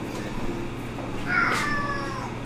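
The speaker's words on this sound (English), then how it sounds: "my cat, who is very old, so he sounds a little bit like a pterodactyl or something" An elderly cat meows once, a drawn-out, rising-and-falling cry heard alone over a low steady kitchen hum, moderately close and fairly clear.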